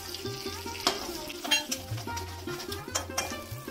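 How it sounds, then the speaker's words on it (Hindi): Mustard oil sizzles with black and yellow mustard seeds, fenugreek, fennel and cumin for a sambar tempering, the steady fry broken by scraping stirs and a few utensil clinks against the pan. "अब इसमें हम सांभर का तड़का लगाएंगे।"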